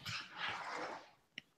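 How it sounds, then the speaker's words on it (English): A dog barks and whines in a burst of loud, breathy vocalizing, then quiets, followed by one short sharp yelp. "My dog's here."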